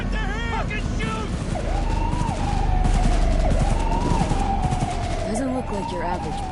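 Cyberpunk 2077 street shootout with police: rapid bursts of gunfire crackle beneath wailing, sweeping sirens, while voices shout over the chaos, loud and busy throughout.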